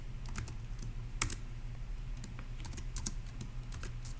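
Soft keystrokes tapping on a computer keyboard while notes are typed up during a logic puzzle, a steady patter of light clicks with a few sharper taps, close and fairly quiet over low room hum.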